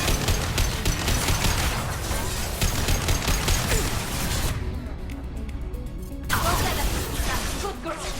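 Dense gunfire in Mass Effect 2 during a firefight in the Migrant Fleet, rapid bursts and crackling shots layered with impacts, loud and continuous, with a short lull before firing resumes, voices heard in the mix.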